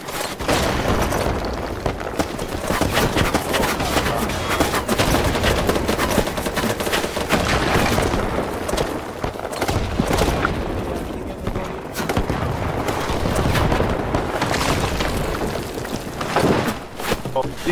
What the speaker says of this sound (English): they're just shooting rockets